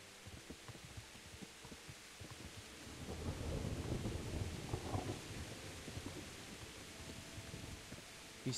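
Rain patters steadily in the video game Kingdom Come: Deliverance while a low, rumbling roll of thunder swells in the middle and fades, quiet and distant overall.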